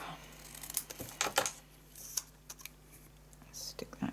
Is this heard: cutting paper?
yes